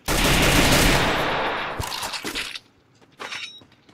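Gunfire in a shooting video game, a loud close rapid burst of automatic shots with a crash like breaking glass, then sparser shots and quieter bangs, no talking.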